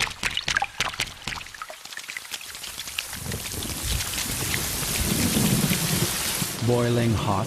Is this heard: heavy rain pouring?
yes